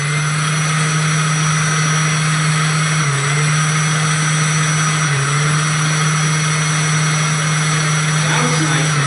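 A 1/14 scale RC 797 haul truck, just repaired, runs its engine in a loud, steady, continuous drone with a strong hum and only slight dips in pitch, without talk.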